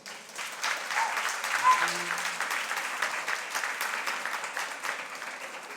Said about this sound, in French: Huel Lamort et Élise Lugern, qu'on peut applaudir.